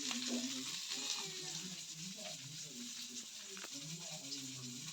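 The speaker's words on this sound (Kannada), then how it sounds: "ಬೂತಾಯಿನ ಮಸಾಲೆ ತಗದೀತೆ ಫ್ರೈ ಮನ್ಪರೆ" Masala-coated sardines fry in a pan with a soft, continuous sizzle, fairly faint, with low murmuring tones in the background.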